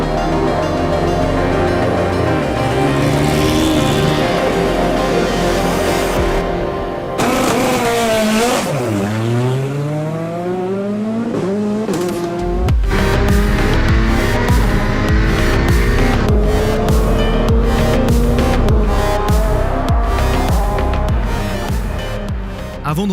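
Race cars at the Pikes Peak hill climb, engines roaring and revving loudly throughout, with a swooping pitch sweep as one car passes and shifts gears, followed by dense, rough engine noise under music-like tones.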